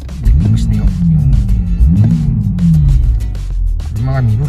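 A Toyota Supra engine in test mode, with ABS and VSC off, revs up and down in two or three swells, loud and close, with a voice talking over the rumble.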